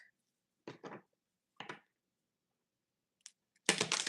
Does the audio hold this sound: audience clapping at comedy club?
no